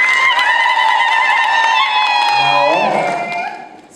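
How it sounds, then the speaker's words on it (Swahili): Wedding guests at a church ceremony cheer and applaud for newlyweds Gladys and Evans Osano, a lively crowd of high voices and clapping that holds steady before fading out near the end. "Makofi kwao."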